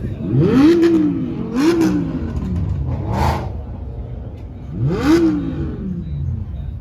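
A Noble M400 sports car revving at an airfield car festival, its engine rising and falling in several loud, close swells with falling gear-shift tones between them.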